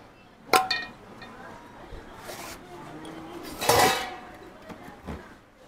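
Food is served onto banana leaves at a cheap roadside lunch spot, with a few sharp clinks and clatters of serving utensils against dishes, soft scuffs in between, and background chatter.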